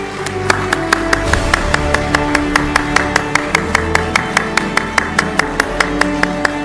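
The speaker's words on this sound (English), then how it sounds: "Please keep the round of applause going." Steady rhythmic clapping at an award ceremony, an audience applauding in even beats for several seconds, fairly close and with no talking over it.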